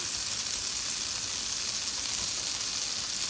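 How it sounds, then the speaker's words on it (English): Butter melts in a pan on the stove for garlic parmesan chicken wings, giving off a steady, even sizzle with a bright hiss that carries through without break, close by and moderately loud, with no one talking. "We're going to start off with adding our butter to our pan and allow it to melt on down."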